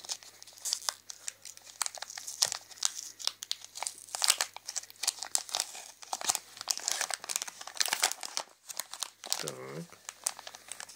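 A crinkly Ritter Sport chocolate wrapper, rose and raspberry flavour, is torn open and handled, giving repeated sharp crackling and rustling bursts close by, with voices talking at times.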